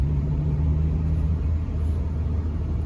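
A low, steady engine rumble from inside a moving 1990s Japanese-market Legend with a manual clutch, running smoothly, with continuous road noise and no talking.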